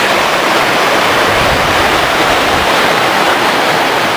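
A loud, constant rush of a mountain stream in Kościeliska Valley, Tatra Mountains, fills the whole clip, steady and close with no pauses.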